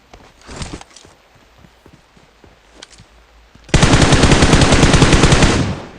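Automatic gunfire in the mobile game PUBG Mobile: a few scattered shots and footsteps, then a loud, dense, sustained burst of rapid fire lasting about two seconds, with no talking.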